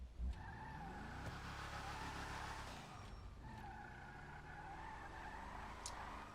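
Heavy car driving and skidding in GTA 5, a steady engine drone with tire squeal streaks running continuously, loud and close, with no talk.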